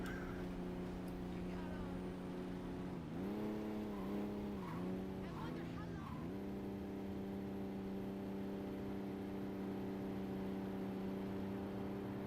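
Steady engine drone of a car driving in the Saints Row video game, a continuous hum with a few quick pitch dips as it shifts or turns around the middle, a voice talking over it.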